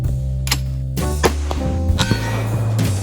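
A .308 rifle fires an armor-piercing bullet at a steel plate, giving a loud clang followed by a few fainter metallic pings and rings over a heavy, continuous background roar.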